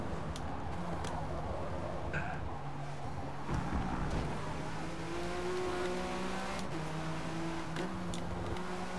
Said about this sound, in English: I just hear turbos behind me, closing in.